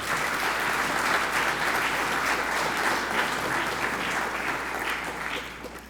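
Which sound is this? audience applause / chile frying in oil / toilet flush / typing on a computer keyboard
audience applause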